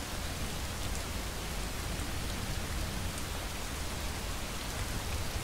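Steady rain falls in the video game Honorless, a dense, even hiss of drops on surfaces at moderate volume, unbroken and without voices or other sounds.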